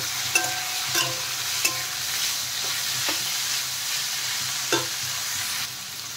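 Sabudana upma with vegetables and green chillies frying in a pan, a steady hiss of sizzling oil broken by a few sharp scrapes and clicks of stirring.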